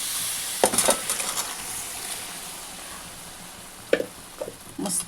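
Cooked chickpeas tumble into frying masala for chole, setting off two sharp bursts of sizzling with some stirring clatter, while a soft hiss of frying carries on between them.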